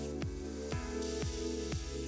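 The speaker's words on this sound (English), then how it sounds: "To spray, you need to cover this hole with your thumb. Spray cools and soothes the skin." A handheld facial mist sprayer from a multifunction skincare system gives four evenly spaced short hissing sprays over a steady mechanical hum.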